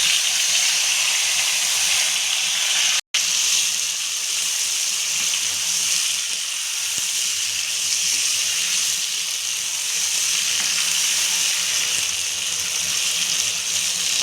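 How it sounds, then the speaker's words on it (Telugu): Chopped tomatoes added to hot oil in a pan sizzle and fry with a loud, steady broadband hiss, close and continuous, broken only by one brief dropout, with no talking. "ఇప్పుడు మనము తరిగి పెట్టుకున్న టమాటోలను వేసి బాగా వేసుకోవాలి"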